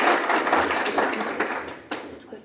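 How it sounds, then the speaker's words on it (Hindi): An audience at a startup roadshow event claps, a short burst of many hands that is fairly close, starts strong and tapers off over a couple of seconds. "इनके लिए पहले तो बहुत सारी तालियां बजाइए।"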